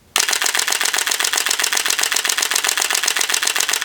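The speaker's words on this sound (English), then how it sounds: "I can press this button here and rotate this knob to switch it from single shot to continuous mode, and this sounds amazing" A Nikon F5 film camera firing its shutter in continuous mode, a rapid, steady burst of sharp mechanical clacks from close by that runs several seconds without a break, with no talking.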